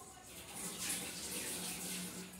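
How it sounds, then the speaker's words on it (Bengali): Water poured into a pan of simmering paneer butter masala gravy, a steady splashing hiss running continuously for a couple of seconds, close and fairly loud with no talk over it. "তেল ছেড়ে আসলে এবার আমি দিয়ে দেব জল"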